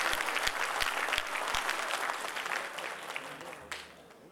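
An audience at an Urdu poetry gathering in Qatar claps to welcome a poet, dense applause with a few distinct near claps early on, gradually thinning and fading out.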